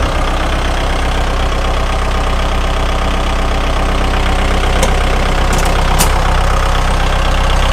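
A 2018 Kubota L5018 tractor engine idles close by, a loud steady diesel chug with a constant knocking rhythm that runs unbroken throughout.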